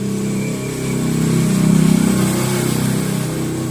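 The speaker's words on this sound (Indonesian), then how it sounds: "ada motor lewat" A motorbike passes close by at night, its engine a loud, steady droning hum that swells in the middle and then eases slightly, with no voices.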